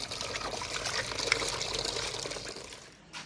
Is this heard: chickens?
no